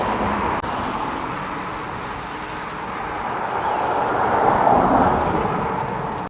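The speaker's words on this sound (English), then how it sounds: "Decided to stand under a canopy to get a bit of shelter from this heavy downpour." Heavy rain pours down on a town street in Paisley, Scotland, heard from under a shop canopy: a steady, loud broadband hiss that swells slightly toward the end, with no talking.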